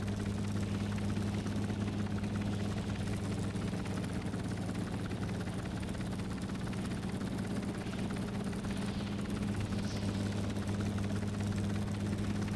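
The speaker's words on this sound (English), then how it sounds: "helicopters that run on diesel engines need gears" A diesel-engined helicopter in the game Stormworks runs at a steady, droning pitch, its continuous low hum and rotor-like whir holding unchanged for the whole stretch with no voices over it.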